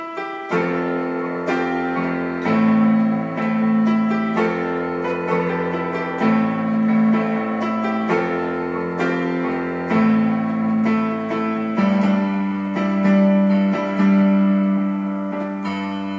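Strummed acoustic guitar chords shift back and forth in a steady progression, loud and close with no voices.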